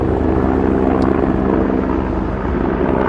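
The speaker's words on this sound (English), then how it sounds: "We've got one of those helicopters coming up now that has been utilizing Yellow Lake to help fill." A firefighting helicopter flies over the Keremeos Creek wildfire after filling at Yellow Lake, giving a loud, steady rotor and engine drone that stays close and constant throughout with no voices.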